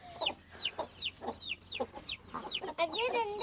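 Young fancy-breed chicks and hens cheep and cluck in a quick run of short, close calls, ending with a louder squawk.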